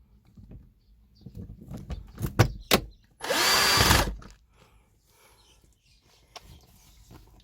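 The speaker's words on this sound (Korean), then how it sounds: "두 번째 나사를 조입니다." A power drill tightens a screw during a car air conditioner repair, giving one short, loud whirring burst of about a second, preceded by a few sharp clicks and handling knocks in an otherwise quiet space.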